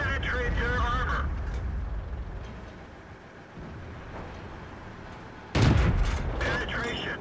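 A tank cannon fires in the World of Tanks video game: one sharp, loud blast near the end, with quieter game rumble and someone talking before it.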